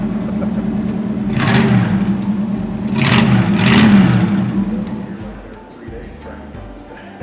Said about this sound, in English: You open these up and it's like running no muffler